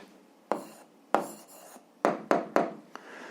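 Someone writes down the answer to a 7th-grade algebra exercise in quick, separate strokes. Six or seven sharp scratchy taps come at uneven intervals in a quiet room, close by.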